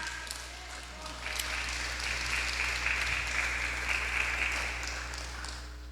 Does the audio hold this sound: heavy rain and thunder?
no